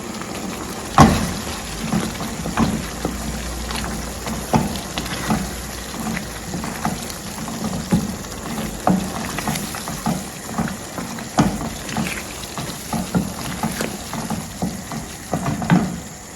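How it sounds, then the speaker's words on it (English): Blended ginger and garlic frying in a pot, a steady wet sizzle and bubbling with irregular stirring clicks and scrapes throughout, close and moderately loud. "We go ahead and add our blended ginger and garlic."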